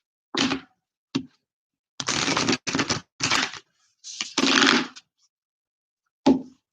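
Playing cards are shuffled in a series of short, crisp riffling bursts separated by brief pauses, close and fairly quiet, with no voice over them.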